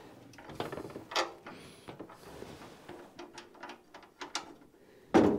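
Ratchet clicking while radiator bolts are fitted on a Dodge W200 truck under restoration: quiet, close, irregular bursts of pawl clicks and metal handling, with a louder clunk near the end.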